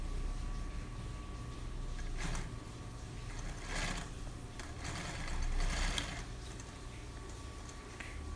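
Sewing machine running in short bursts while gathering excess fabric over a bra cup, soft rapid stitching chatter, fairly quiet and close.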